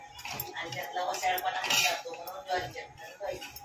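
Metal clatters and scrapes in a pan as dried Bombay duck is lightly roasted, steady busy clinking close by, with a voice talking over it.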